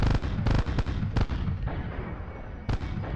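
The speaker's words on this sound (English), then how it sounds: "You're fucking shooting me and shit." Gunfire in a Cryo Interactive video game: several sharp, loud reports spaced irregularly, each with a booming echoing tail over a continuous rumbling background.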